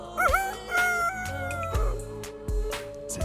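An elderly man imitates a rooster's crow with his voice, sitting under a mango tree. The call is a drawn-out cock-a-doodle-doo with wavering pitch, close and fairly loud, alongside low background thumps.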